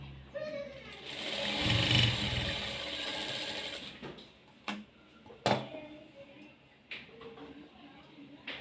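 A sewing machine stitches blouse lining in short runs, its fast mechanical whir rising and falling, with someone talking over it and a few clicks and taps in between.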